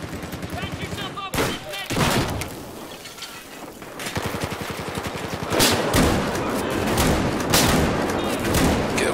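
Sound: shotgun gunfire in the video game Battlefield 4

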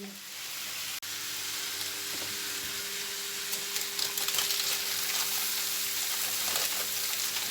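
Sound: Adana kebab sizzling as it cooks in a toaster

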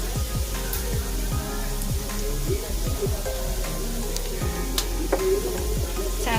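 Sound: carrots, capsicum and onion sizzling in frying oil

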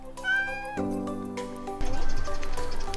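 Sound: cat meowing

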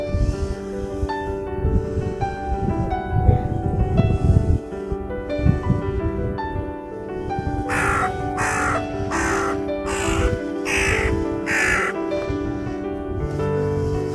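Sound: crows cawing

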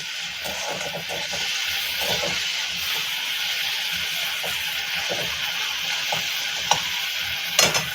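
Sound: prawn heads frying and being stirred in pan

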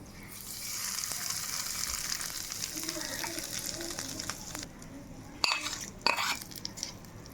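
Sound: asafoetida powder frying in hot oil

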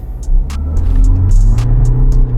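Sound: car launching from standstill using both pedals

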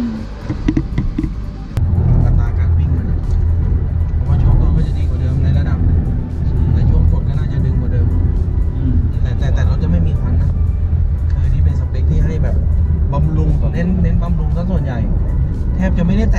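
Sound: car engine running while driving

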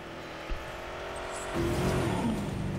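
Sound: ranger jeep driving in the video game Jurassic World Evolution

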